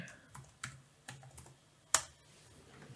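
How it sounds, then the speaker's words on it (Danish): Keys clacking on a computer keyboard while a new password is typed in, a handful of separate taps spread out with one sharp louder click near the middle, no voices. "Så fik vi tastet vores nye password ind"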